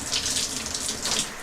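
Water running from a BLACK+DECKER filtered shower head, a steady close hiss of spray with slight splashing surges, loud and uninterrupted over a brief moment.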